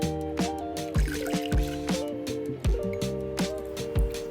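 Water poured into a saucepan of quinoa on the stove, a run of splashy liquid pulses and bubbling drips with rising tonal ringing, close and fairly loud with no talk.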